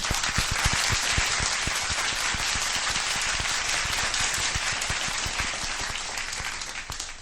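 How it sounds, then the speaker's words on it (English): Applause during a livestreamed MMA recap show, a steady dense wash of clapping that holds at a constant level for several seconds with no talking over it, sounding close and slightly rain-like. "A round of applause."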